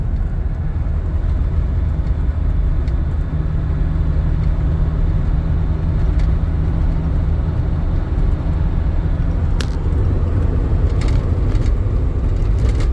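A Porsche 924 Turbo engine drones steadily and loudly while driving, a continuous low rumble heard from inside the car with no pauses or voices.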